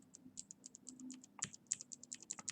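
Rapid, light clicks and clacks of mechanical keyboard switches pressed one after another on a switch tester, including clicky, linear and tactile switches, close and fairly quiet with an irregular tapping rhythm and no talk.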